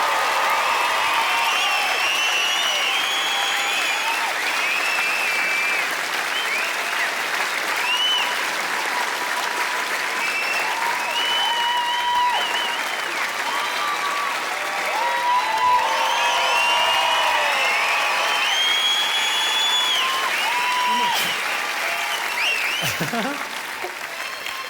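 Theatre audience in Glasgow applauding at the end of a stand-up comedy show: dense, sustained clapping for over twenty seconds that tapers slightly at the very end.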